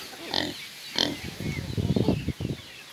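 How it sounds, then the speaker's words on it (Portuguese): Mini pigs in a backyard grunt and snuffle close by in short bursts and rapid clusters, over a steady background hiss. "Esse daqui é o Pipo, mini porquinho."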